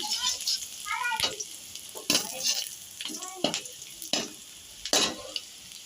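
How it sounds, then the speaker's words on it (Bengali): Finely chopped garlic fries in a pan for Chinese gravy noodles, with a soft sizzle beneath repeated sharp scrapes of stirring at a close distance, while a voice speaks over it. "রসুন কুচি ফাইনলি চপ করা রসুন রসুনটাকে হালকা ফ্রাই করে নিয়ে"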